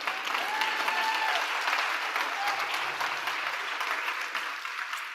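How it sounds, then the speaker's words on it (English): Audience at a global youth forum opening ceremony claps warmly, a dense sustained wave of applause that stays loud throughout and eases slightly at the end. "A round of applause for Rand."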